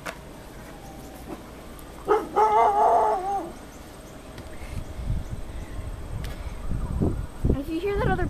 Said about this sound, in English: If you hear that other barking, an extra neighbor's dog.